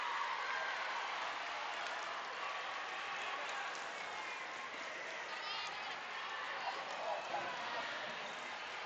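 A high school boys basketball crowd cheers and roars after a championship win, a dense continuous wall of noise with a commentator talking over it.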